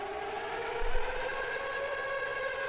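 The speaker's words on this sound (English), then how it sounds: "let's go with the next one, which is the tornado siren." A tornado-style siren wails in a sustained, rising and steady tone, loud and dramatic with no talking over it.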